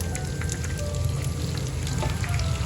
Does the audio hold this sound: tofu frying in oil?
yes